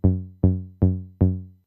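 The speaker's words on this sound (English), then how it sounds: "For the FX, I applied some overdrive" Korg Electribe 2 synth bass with overdrive applied, four evenly spaced, punchy notes that each decay quickly, loud and alone with no talking.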